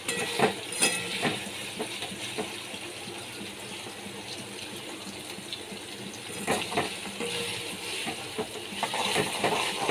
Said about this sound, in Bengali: পনিরগুলোকে আমি ভেজে নিচ্ছি